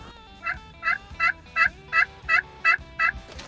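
A turkey call worked in small circles gives eight evenly spaced, clear, close yelping notes over about three seconds, alone with no talk.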